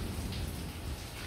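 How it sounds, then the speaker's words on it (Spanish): Heavy rain falling in Puerto Rico under a grey sky, a dense, even hiss of drops on surfaces that continues without break, fairly near, with no talking. "Así está en Puerto Rico, mucha lluvia."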